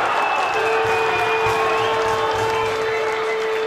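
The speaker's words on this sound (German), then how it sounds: "Jetzt ist der Jubel hier in Aalen natürlich groß." A regional-league football crowd in Aalen celebrates a goal with sustained, loud cheering and applause. Sharp tonal notes, like horns or whistles, ring above the steady roar, and there is no break in the noise.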